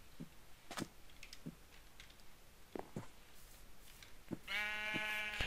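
Sheep in a video game bleating in short separate calls at intervals, followed by a longer sustained bleat toward the end, moderately close against a quiet backdrop with no talk.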